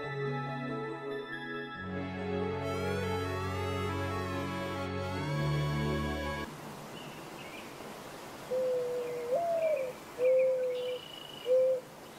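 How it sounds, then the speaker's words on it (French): A Eurasian collared dove coos in a short series of soft, repeated calls, heard alone after a stretch of unrelated music at the start. "c'est pas un coucou, c'est pas un pigeon, c'est une tourterelle turque qui fait ce..."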